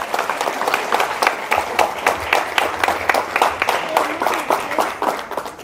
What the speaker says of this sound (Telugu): ఇంకొకసారి గట్టిగా చప్పట్లు కొట్టాలి